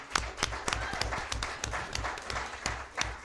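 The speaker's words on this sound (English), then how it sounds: "Let's give them all a round of applause." Applause for children at a school governing board meeting, scattered clapping from a modest crowd with distinct individual claps standing out, moderately close and steady.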